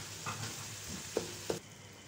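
Masala spices frying in a pan for a dal and mutton kofta dish, a steady close sizzle with a couple of brief stirring knocks, no talking.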